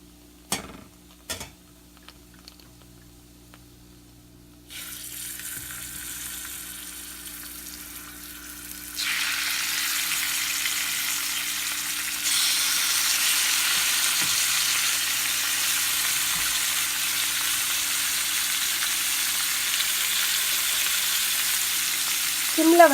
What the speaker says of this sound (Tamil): இது கூட சேர்த்து நம்ம வந்து இப்போ வந்து சிக்கனையும் போட்டு லைட்டாக வந்து ஃப்ரை பண்ண போகிறோம்